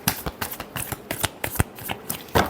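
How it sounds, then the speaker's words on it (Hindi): Tarot cards being shuffled by hand, a rapid run of crisp papery riffles and flicks, close and steady, with no talking. "Last shuffle."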